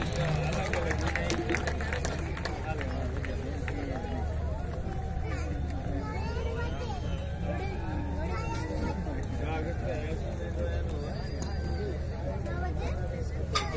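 A huge audience at an MI Lifestyle Diamond speech event claps steadily for a speaker on Dreams Day 3, with more than a lakh people present. The loud, continuous clapping mixes with crowd hubbub and an amplified voice.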